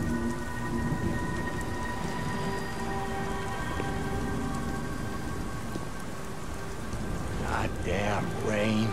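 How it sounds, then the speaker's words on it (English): Steady rain pours down with a low rumble beneath it in the video game Beyond: Two Souls, and a voice speaks briefly near the end over the downpour. "Goddamn rain."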